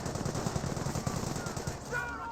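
Machine gun fire in the WWII strategy game Company of Heroes, a steady rapid rattle of bursts at moderate distance, fairly quiet in the mix with a faint tonal effect near the end.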